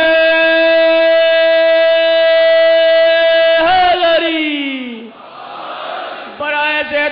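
A large gathering at a religious majlis chants slogans in unison, one long sustained call held steadily, then a falling shout dissolving into crowd noise before another voiced chant rises.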